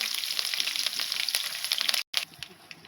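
Mustard seeds crackle and sputter in hot oil for a tempering with curry leaves and garlic, a dense crisp sizzle with scattered pops that briefly cuts out, then resumes more faintly.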